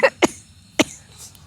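A little girl coughs in short, sharp bursts, three close hacking coughs with brief quiet between them and another starting at the end, near and fairly loud with no talk.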